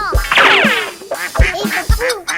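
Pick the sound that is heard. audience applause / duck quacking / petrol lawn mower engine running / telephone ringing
duck quacking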